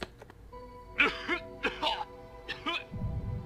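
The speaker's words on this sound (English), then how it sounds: "A cough." A few harsh coughs and throat-clearing bursts in quick succession, close and fairly loud, followed by a low rumble, from the video game Ever 17: The Out of Infinity.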